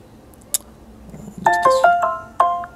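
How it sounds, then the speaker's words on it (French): A Samsung Galaxy S6 Dual SIM SM-G9200 plays its notification sound: a quick run of bright, bell-like chime notes, then a repeated note, clear and close against low room noise. "Son notification, on va écouter un petit peu le son."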